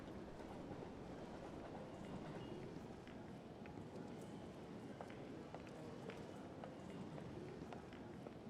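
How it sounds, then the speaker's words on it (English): Quiet train station ambience with the faint rolling rumble and light clatter of a train, scattered footsteps and distant murmur blending into a steady low background. "You are at a train station where you've just bought an express ticket."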